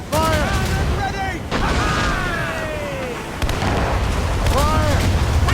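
Ship cannons firing and a hit taken in the naval battle game Assassin's Creed Rogue: heavy booms and crashes under constant battle noise, with crew voices shouting throughout.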